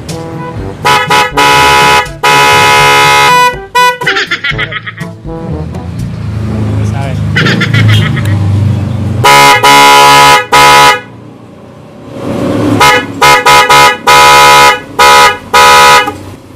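Car horns blasting in turn, a PIAA and two Bosch units, Striker and Evolution: loud repeated honks in short bursts and longer held blares, with a steady rumbling hum between groups of blasts.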